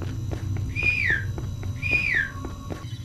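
Two rising-then-falling whistles sound a second apart in the horror video game Inside the Backrooms, clear and fairly close over a low rumbling ambience, with no talking.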